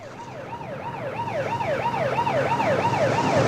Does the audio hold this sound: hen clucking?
no